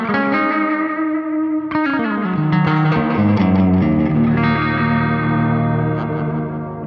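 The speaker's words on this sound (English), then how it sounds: "so much more movement on those delay repeats in the actual Space Echo" Cranked electric guitar run through a Roland Space Echo tape delay, loud distorted chords and notes trailing into warbling, wavering echo repeats with no talking.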